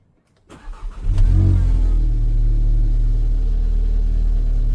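An Audi S3 that had suffered a blown alternator cranks briefly, catches and settles into a steady, loud, close-up idle with a deep rumble, with no talking.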